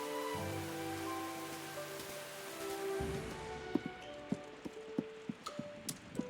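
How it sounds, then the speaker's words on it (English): Steady rain hisses across the scene in the cozy game Tales of the Shire, a soft even wash that grows a little brighter midway, joined later by a series of light, spaced taps. "I don't remember it raining 2 days in a row before."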